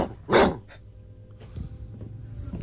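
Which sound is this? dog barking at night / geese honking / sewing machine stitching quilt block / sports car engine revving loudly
dog barking at night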